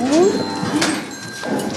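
A cow moos during milking on a dairy farm, hooked up alongside another cow to a milking machine; a short, near, tonal moo comes at the start over a steady barn hum, with no one talking.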